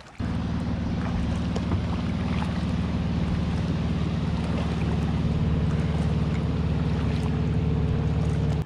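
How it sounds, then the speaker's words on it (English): Paddling a fishing boat across a lake toward a small island, with a continuous close wash of water and wind noise and soft, steady paddle strokes, with no voices. "I guess while we're still paddling over"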